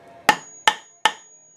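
A Milwaukee M18 FID next-gen Fuel impact driver hammers into old structural hardwood, jarrah or red gum, giving three sharp, loud, evenly spaced metallic strikes with ringing tails and no talk.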